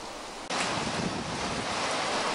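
A sudden burst of dense, roaring noise of heavy rain driven by gusty squall wind at a country house, loud and continuous after a brief quieter start.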